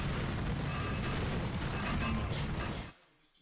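Several helicopters in GTA, a dense loud rotor-and-engine roar that cuts off abruptly near the end, no voices.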